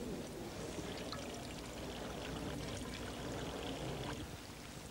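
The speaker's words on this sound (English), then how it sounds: "What we do now is pour the water through this and collect at the other end." Water poured through an improvised sock filter runs in a steady, soft splashing trickle, faint and continuous for a few seconds, with no voices.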